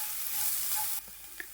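Grated carrot cooks down in a pan for sabudana payasam, a soft continuous sizzle with scraping stir strokes that quiets partway through, ending with a brief tap.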